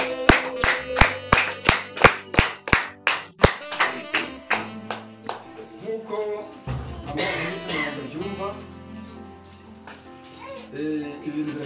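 A crowd claps in a sharp, steady rhythm, about a dozen strong, even beats, at a family gathering. The claps then give way to voices and music.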